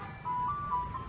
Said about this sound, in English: Yeah, that was an ice cream truck.